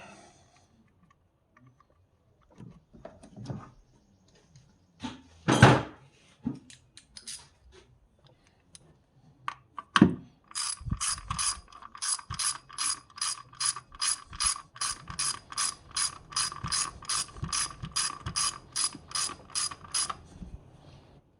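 A few scattered clunks and knocks, then a fast, steady run of ratchet clicks as a new stainless bolt is cranked tight on a 2010 Toyota FJ Cruiser, close and clear.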